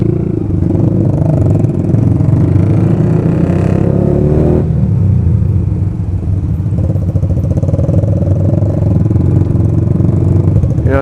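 Several motorcycles idle and rev nearby, a loud, continuous rumble with rising and falling throttle blips and some mechanical clatter, running the whole time without talk.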